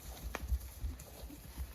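Soft hoof clops of horses walking sound faintly in the distance, uneven and unhurried, over quiet mountain ambience in the Cévennes, France.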